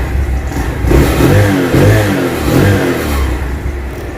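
A Venom X20 Grom clone motorcycle engine runs close by after an oil change, idling roughly and revving up in a few repeated swells, loud and alone.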